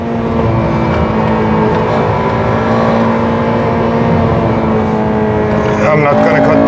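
A Honda K20 VTEC engine on the Nordschleife holds a loud, steady high-revving drone, its harmonics rising into a sharper shift near the end, with a voice talking over it throughout.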